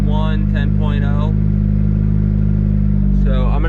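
A built single-cam engine fitted with new injectors idles running rich, a loud steady low-pitched drone throughout, with a person talking over it at the start and end.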